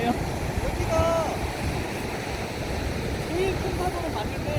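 Ocean surf breaking at a point break, heard as a steady wash of rumbling waves mixed with wind noise, with faint distant voices and squeaky tones in the background.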